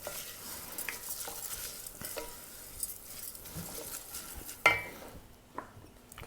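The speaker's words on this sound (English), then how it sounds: "Gentle stirring, wooden spoon." Rice grains for an asparagus risotto get gently stirred with a wooden spoon in a hot pan, producing a soft, intermittent scraping and faint sizzle with occasional light knocks against the pan.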